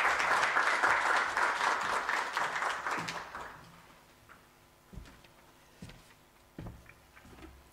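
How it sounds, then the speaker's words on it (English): An audience applauds a speaker at a university public lecture, the dense clapping loud for about three seconds before fading out. Scattered faint knocks and stray claps follow in a quiet room. "Let's give her a round of applause."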